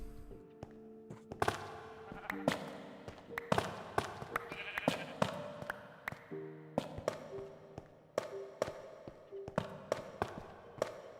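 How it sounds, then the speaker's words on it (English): Faint bleating Minecraft sheep amid a busy scatter of clicks, taps and thumps, with soft tonal game sounds in the background. "those sheep are annoying"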